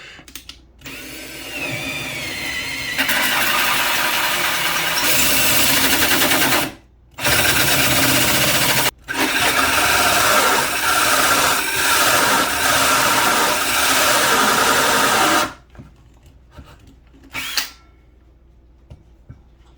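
A power drill whines loudly in several long bursts drilling into a wall for a pop-up outlet, stopping briefly between runs, with a rattling grind as it bores in, then falls quiet near the end.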